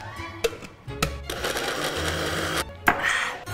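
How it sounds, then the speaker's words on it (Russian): A blender whirs loudly and steadily as it mixes banana and other foods, with sharp knocks and clicks at the start and end as it switches on and off. "Смешать в блендере продукты и залить в банки"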